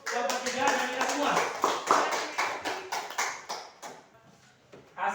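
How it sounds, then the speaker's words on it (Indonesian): A classroom of students claps for a discussion group, a lively run of hand claps that thins out near the end, with voices mixed in. "Kita beri tepuk tangan yang meriah untuk kelompok 3 dan kita semua."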